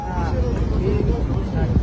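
A river trawler's engine gives a steady, loud low rumble as it pulls in to stop at Chormonai, while someone talks over the droning noise.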